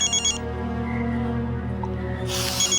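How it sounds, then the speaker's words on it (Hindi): A telephone rings in short electronic bursts at the start and end, with a steady tonal hum sustained underneath. "डैडी का फोन है, मैं जरा बात कर लेता हूँ।"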